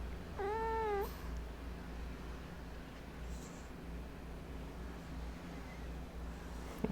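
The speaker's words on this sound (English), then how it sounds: "Well, here's the cat." A cat gives a single clear, rising-and-falling meow close by, lasting about half a second, followed by quiet room noise with a faint rustle.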